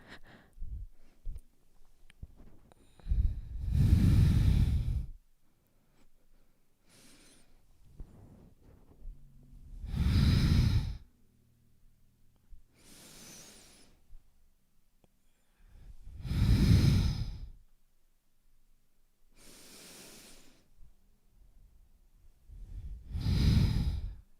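Kundalini yoga breathing with stomach pumps: slow, forceful breaths in and out through the nose, five or six loud breathy bursts separated by quiet gaps, close and without talk.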